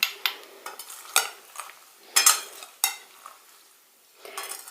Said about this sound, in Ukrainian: Тепер все перемішаю